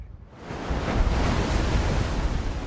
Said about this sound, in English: But Peterhead is in the grip of a storm.